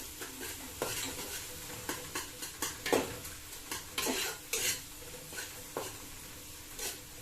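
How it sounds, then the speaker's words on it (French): Tomato paste stirred into a base sauce in a pot, a spoon knocking and scraping the sides in an irregular run of clinks over a soft, quiet sizzle, close and without speech. "je rajoute ici ma pâte de tomate concentrée. Je remue."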